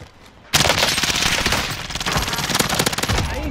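Rapid automatic gunfire in the video game Call of Duty Warzone, a loud, dense stream of shots starting suddenly after a brief quiet and continuing without a break.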